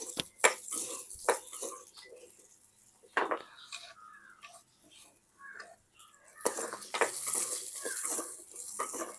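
Metal utensils clatter and scrape against a pan, followed by a steady hiss of onions frying that rises toward the end.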